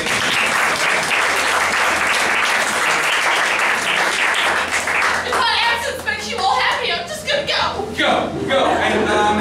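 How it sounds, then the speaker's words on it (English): A comedy show audience at a standup night breaks into loud, sustained applause as a performer leaves the stage, the clapping close and continuous, thinning slightly toward the end with scattered voices and laughter. "Give her a round of applause as she leaves the stage."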